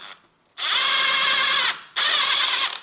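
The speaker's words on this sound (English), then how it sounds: "now I open firstly these bolts in here. Okay, and I need 17 millimeter socket what fits in here, and then I can open this" Socket wrench with a 17 mm socket loosening bolts on a Honda Civic right drive shaft, giving two loud, sustained whirring ratchet runs close up, the first after a brief quiet start and the second after a short pause.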